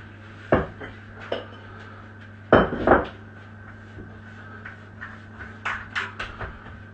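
Dough being put into a bowl, with sharp clinks and knocks of the bowl against a hard surface, a few scattered hits and a cluster of soft rattles near the end, close over a low steady hum.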